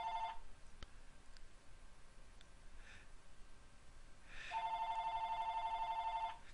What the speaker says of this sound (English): That's my phone ringing in the background